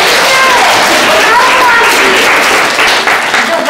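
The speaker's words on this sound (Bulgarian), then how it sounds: "Аплодисменти!" Applause from children and adults at a fourth-grade graduation celebration in a school hall, a dense, steady clapping wash lasting several seconds, with voices and cheers mixed through it.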